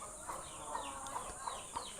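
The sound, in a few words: brooding country hen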